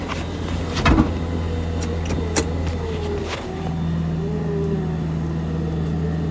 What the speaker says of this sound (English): So I'm not driving at all, it's just a winch doing all the work.